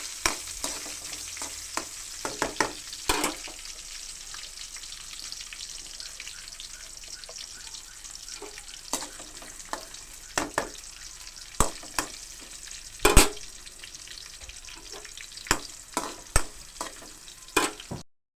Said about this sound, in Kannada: ಸಣ್ಣಗೆ ಕಟ್ ಮಾಡಿರೋಂಥ ಈರುಳ್ಳಿ ಹಾಕಿ ಈ ರೀತಿ ಚೂರು ಕಂದು ಬಣ್ಣ ಬರೋವರೆಗೂ ಇದನ್ನು ಈ ರೀತಿ ಫ್ರೈ ಮಾಡಬೇಕು